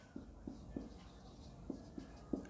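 Chalk or marker strokes on a lecture-hall board, several short scratchy taps in an uneven rhythm, faint and close with a quiet room hum behind.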